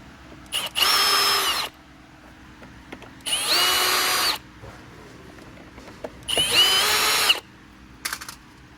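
Power drill backing screws out of a Bissell Pet Hair Eraser vacuum's cheap plastic housing: three separate close, loud whirring bursts of about a second each, with quiet handling gaps between them.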